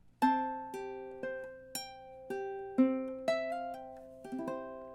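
A solo ukulele plays the closing measures of a song, about ten plucked notes and chords in a steady, unhurried rhythm, each ringing and decaying, close and clear.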